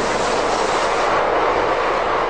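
A modern Spanish Cercanías commuter train runs on rails with a steady, loud rushing roar. The roar stays even and unbroken throughout, with no one talking.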